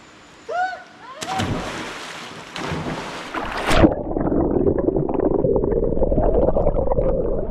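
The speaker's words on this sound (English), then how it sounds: "How about let's jump in together? Together? Yeah, we never tried together dive." Two people leap together into a cold valley stream in Korea, a sharp splash followed by a sustained muffled underwater rush, preceded by a brief shout.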